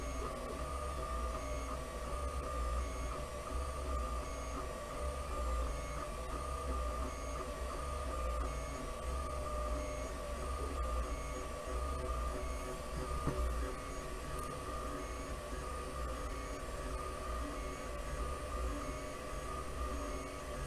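A small Wanhao Duplicator i3 Mini 3D printer runs a print job, giving a steady, continuous mechanical hum and whir with a constant tone throughout, with no voices.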